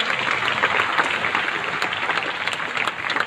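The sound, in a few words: applause for a festival performance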